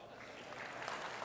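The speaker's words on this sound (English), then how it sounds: "Give yourself a round of applause." Dense clapping from an audience at an award event, a short steady burst of applause that grows slightly louder partway through.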